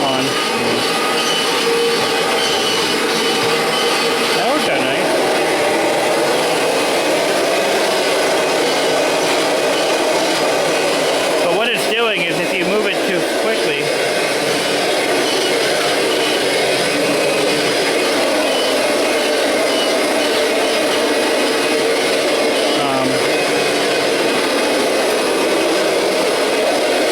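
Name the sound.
Kirby Generation 5 vacuum drive unit running on bare floor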